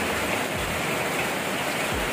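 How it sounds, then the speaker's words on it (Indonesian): Heavy rain pouring down outside, a dense steady hiss with a couple of low thuds, constant and moderately loud with no voices. "di luar lagi hujan nih, hujannya deras banget"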